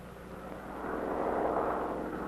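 A propeller airplane flying low across a line of checkpoints during a DDT aerosol spraying test, its steady drone swelling as it nears, faint and distant with no voices.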